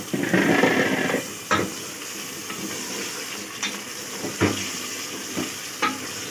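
Mutton and onions sizzle in a hot pan while cooking arbi gosht, with a louder hiss at first and then scattered scraping and stirring clanks.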